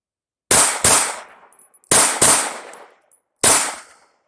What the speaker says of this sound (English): we're going to shoot 15 rounds of the Blazer 124 grain full metal jacket out of the Glock magazine